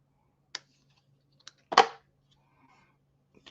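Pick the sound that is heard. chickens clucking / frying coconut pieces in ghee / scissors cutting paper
scissors cutting paper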